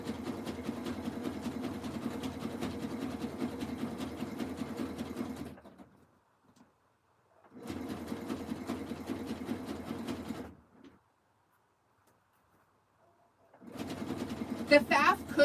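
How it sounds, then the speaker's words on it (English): A Singer Heavy Duty sewing machine runs fast straight stitches through rug fabric strips in three loud, steady bursts separated by pauses, with brief stops between runs. "I use the Singer Heavy Duty because that machine is dead. It can't do a zigzag on it, but it does sew a straight stitch super fast."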